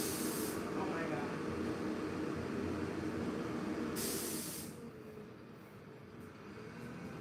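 A truck idling and rumbling right outside a house, a loud steady broadband roar with hissing that dominates throughout, then eases slightly as it seems to shift or pull away toward the end.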